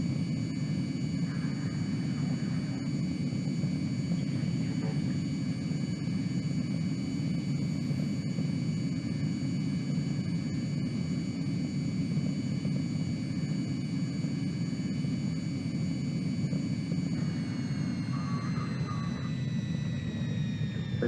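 A Hawker Harrier jet in a video game comes in to land on an aircraft carrier, its engine a loud, continuous roaring drone with a steady whine that holds for the whole stretch, with no voices.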